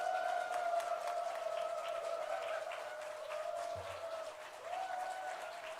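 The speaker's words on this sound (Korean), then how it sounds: "박수합니다" A church congregation claps together in a hall, a moderate, steady patter of hands partly covered by a sustained organ-like tone, heard from some distance.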